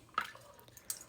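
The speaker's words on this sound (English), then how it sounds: "start pouring some of the brine" Pickle brine drips from a measuring cup into a bowl, two distinct wet splashes about three-quarters of a second apart, quiet and close with faint liquid trickle between.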